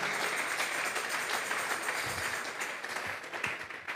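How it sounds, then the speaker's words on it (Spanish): A church congregation claps as an offering to God in a steady, dense burst of applause that fills the space evenly from start to finish. "Vamos a regalarle ofrenda de palmas al Dios de la gloria."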